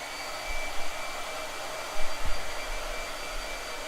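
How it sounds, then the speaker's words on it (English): A hair blow dryer runs continuously close by with a steady, airy whir. Its motor rumbles slightly unevenly, and no one speaks. "Blow dryer."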